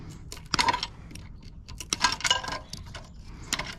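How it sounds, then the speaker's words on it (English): Wiring being cut off a heavy metal halide light fixture for scrap, giving a string of sharp metallic snips and clinks in bursts, close and fairly loud, with no talking. "Start with, I'll cut off all the wiring."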